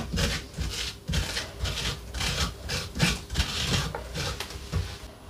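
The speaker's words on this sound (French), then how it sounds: "Et on vient nettoyer notre potimarron comme ça." A soup spoon scrapes the inside of a red kuri squash clean in quick, regular rasping strokes about twice a second, close and fairly quiet with no talk.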